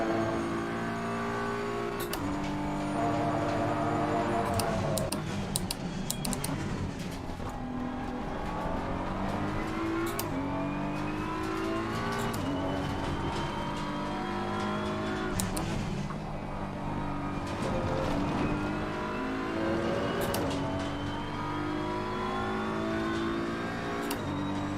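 A race car engine revs hard and continuously in an Xbox racing game, its pitch climbing and dropping through gear changes over a sustained loud drone, with brief sharp clicks and no talking.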